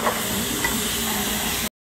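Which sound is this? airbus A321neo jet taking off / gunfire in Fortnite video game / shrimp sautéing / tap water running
shrimp sautéing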